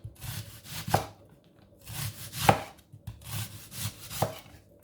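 An onion being chopped on a cutting board while making an immunity tea, heard as clusters of sharp knife strikes in three bursts separated by short pauses, close and fairly loud, with no talking.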